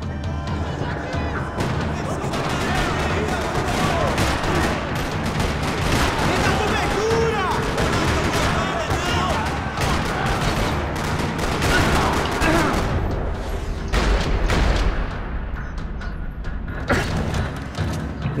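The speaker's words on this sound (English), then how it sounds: "Another parking lot rattling with gunfire." Gunfire rattling through a parking lot in the video game Max Payne 3, with dense, sustained bursts and heavy impacts that run continuously and loudly through the whole stretch.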